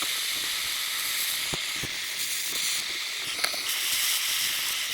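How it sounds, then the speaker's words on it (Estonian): A leaking car radiator is soldered during a repair, with a steady loud hiss and a few sharp crackles and ticks throughout. "Aga kohe hakkame jootma ja vaatame,"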